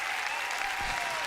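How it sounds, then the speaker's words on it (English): Studio crowd cheers and claps for a DJ guest, a dense, continuous wash of applause and shouts that stays loud throughout. "The crowd's going crazy."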